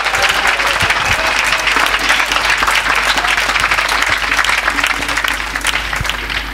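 A church congregation claps throughout a gospel convention in Korhogo, a dense, steady wash of loud applause that barely eases toward the end.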